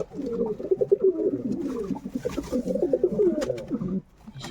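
Pet pigeons coo in a rolling, throaty series close by, a male and female kept in a loft, the calls running steadily for about four seconds before dropping away.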